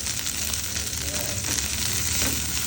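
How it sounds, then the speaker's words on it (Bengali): Coriander leaves frying in a pan give a steady, dense sizzle throughout, with faint stirring scrapes beneath and no talk. "ধনিয়া পাতাগুলো আমি ভেজে নিব।"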